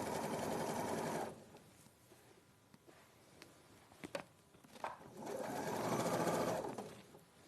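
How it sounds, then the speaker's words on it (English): A sewing machine stitches two underneath layers of fabric together, running in a loud, steady whir at the start and again near the end, with quieter handling clicks and taps in the pause between. "So I'm just sewing the 2 underneath layers together."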